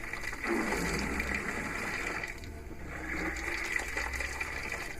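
Cold water running from a tap aboard a sailboat during winterizing, a steady gushing flow with sputtering air bubbles, fairly quiet and alone.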